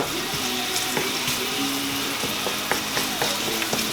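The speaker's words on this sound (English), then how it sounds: "all we're going to do is saute this just for a minute or two" Onions and garlic sautéing in olive oil in a pan, a soft steady sizzle with occasional light clicks and scrapes of stirring, close by and without talk.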